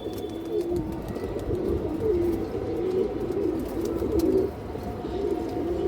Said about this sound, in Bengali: অনেক সুন্দর কবুতর মশাল্লাহ অনেক সুন্দর